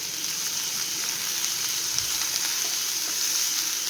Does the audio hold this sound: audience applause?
no